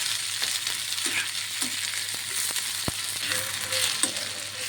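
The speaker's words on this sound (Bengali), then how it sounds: "পেঁয়াজটি একটু বেশি করে দিয়ে আমি নরম করে ভেজে নেব।" Onions sizzle steadily in a pan as they soften for a Bengali bharta, a constant bright hiss with a few soft stirring scrapes and one sharp click, no voices.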